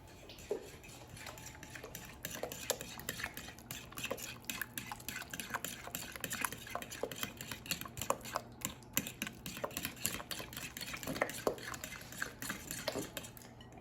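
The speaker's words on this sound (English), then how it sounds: "And mix until combined." Banana bread batter with vanilla mixed in a bowl, a quiet run of rapid clicking and scraping utensil strokes against the bowl, steady and close, with no voices.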